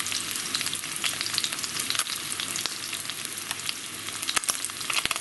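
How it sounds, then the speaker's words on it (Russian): Freshly caught fish sizzle and crackle loudly in a hot frying pan outdoors after a swamp fishing trip, a dense, continuous spitting fry with occasional sharper pops, close up and without talk. "смотрите, видите, сколько жарится"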